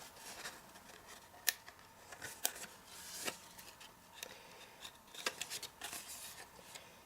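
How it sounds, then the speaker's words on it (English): Scissors snip off part of a scored, folded craft card in a series of sharp, close cuts, irregularly spaced, with quiet rustling between them. "I'm just going to use the scissors."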